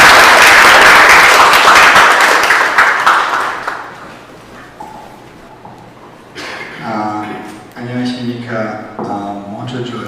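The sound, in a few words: audience applause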